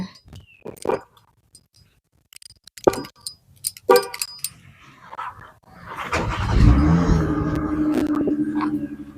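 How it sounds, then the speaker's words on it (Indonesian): A car engine starts and idles steadily, loud and close, after several clicks and clunks of someone getting in, warming up on an early morning at a home in the forest. "Aku mau manasin mobil dulu buat membawa anak-anak ke itu untuk nunggu bis sekolah."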